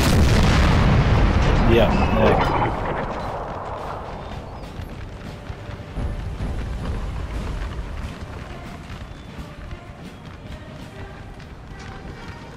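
A massed infantry volley in Napoleon: Total War lets loose as one big crackling roar that rolls out and fades into a lingering rumble of scattered shots and battlefield noise, with a brief voice heard over it.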